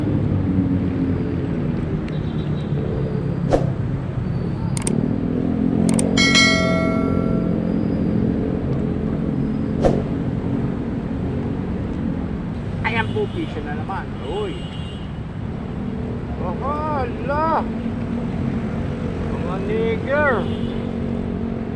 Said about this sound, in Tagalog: Pasensya na po kayo, maingay. Tabing karsada po tayo.